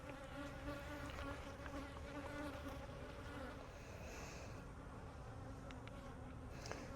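Honey bees buzz steadily around an open hive full of nurse bees, a dense, continuous drone of many wings close by with no voices over it.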